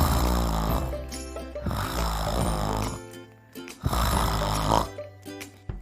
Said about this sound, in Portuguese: Veja no sétimo quadrinho, ele roncando.